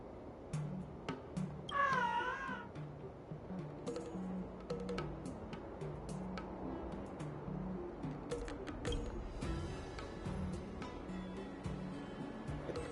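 A cat meows in the Honkai Star Rail video game: one clear rising, warbling meow early on, then scattered short clicks and faint game ambience with no talk.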